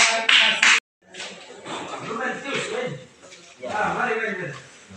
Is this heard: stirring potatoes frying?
no